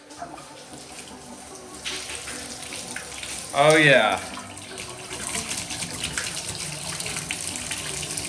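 Tap water gushing out after the supply is switched back on, running steadily through a softened-water system, with brief talk over it.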